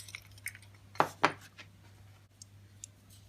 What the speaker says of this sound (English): I'm just going to get a little knife, clean that out